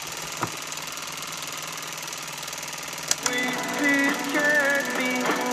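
A Stirling engine driving a small emergency home power generator runs with a steady, rapid mechanical chatter, joined partway through by a faint radio it powers, with no talking.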